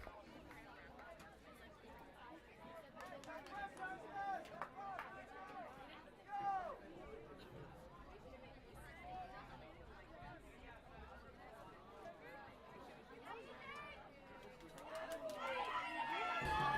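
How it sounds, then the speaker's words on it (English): Spectators at a boys varsity high school soccer game chatter and cheer, a distant crowd murmur with scattered shouts under nearby talking, swelling louder toward the end. "You can hear the crowd's excitement seeing him back in the game"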